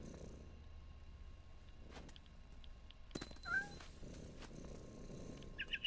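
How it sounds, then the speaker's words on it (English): A cat purrs softly in the video game What Remains of Edith Finch, a low continuous rumble with a few brief chirps and clicks, faint and close. "I was a cat."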